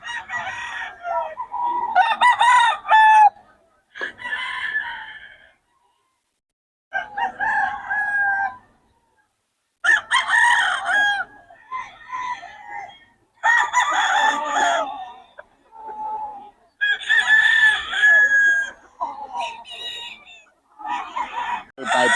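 Gamecock roosters (bullstags) crow repeatedly at a market in Bocaue, several loud cock-a-doodle-doos in bursts separated by short pauses, close by, with occasional clucking between calls.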